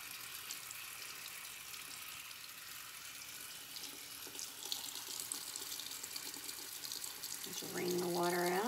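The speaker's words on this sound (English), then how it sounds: "you wanna let the water run inside your brush as well" Tap water running into a sink while a paintbrush is rinsed after painting laminate furniture, a steady broadband gush throughout that swells a bit louder near the end, with some faint tonal sounds in the background.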